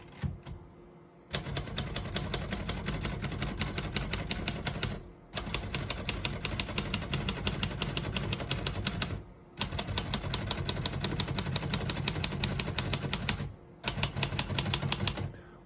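Rapid mechanical keystrokes on a 1936 Royal Model O portable typewriter clatter in steady bursts, with brief pauses between runs, close and loud.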